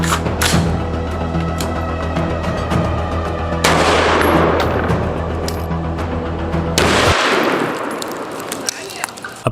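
A rifle fires a .223 NATO round into 3D-printed resin armor. One loud, sharp report rings out, then a long, bright ringing decay with a second burst of noise and a clang of impact near the end.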